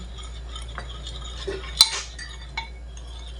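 Cornstarch being stirred for maja blanca, with a quiet background hum, a few soft clinks of a utensil and one sharp metallic tap near the middle.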